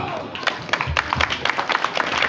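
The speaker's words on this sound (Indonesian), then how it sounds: "Aplaus untuk kita semua" Audience applause breaks out at a pencak silat gathering, a scattered patter of claps rising and falling over a couple of seconds amid crowd noise.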